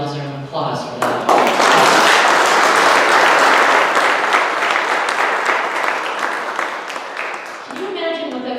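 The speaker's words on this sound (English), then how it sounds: "I think we all deserve an applause for that." A church congregation breaks into loud, dense applause that swells quickly, holds steady, then fades as a voice resumes speaking near the end; a few words are also heard just before the clapping starts.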